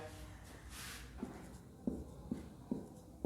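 Chalk or marker strokes on a lecture-hall board come as a few quiet, evenly spaced taps and scratches over a low room hum, faint and close, with no voice.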